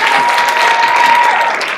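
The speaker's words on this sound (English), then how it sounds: "so let's give Cindy a round of applause" A conference audience at a women's non-traditional trades event applauds steadily, a dense, even wash of many hands clapping at full volume for the whole stretch.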